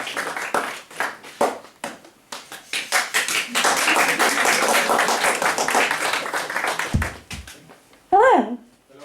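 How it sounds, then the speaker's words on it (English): An audience claps for a reader at a spoken word poetry event, a dense sustained round of applause building and holding loud for several seconds before fading; a single voice speaks near the end. "Give her a round of applause."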